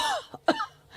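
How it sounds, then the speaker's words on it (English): A man in a studio coughs in short, close bursts, with two or three sharp throat-clearing hacks in quick succession. "He's making me cough."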